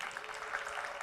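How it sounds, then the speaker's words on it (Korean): Brief, faint applause from a church congregation during a Sunday worship service, a soft, even wash of many hands clapping with no talk over it. "박수 한번 보내겠습니다."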